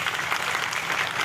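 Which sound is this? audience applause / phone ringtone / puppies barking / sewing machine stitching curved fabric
audience applause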